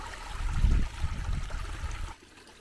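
A nearby creek next to a qanat system trickles and gurgles continuously, with low rumbling bursts, before the flow sound drops away abruptly near the end.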